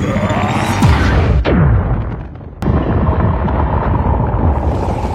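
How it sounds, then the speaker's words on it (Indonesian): Loud, rumbling blasts and booming roars from an explosion in an animated Transformers film, with falling whooshes, a sharp crack midway, and sustained heavy destruction noise throughout. "Optimus yang pingsan akibat ledakan itu hampir saja kesedot ke alam Unicron"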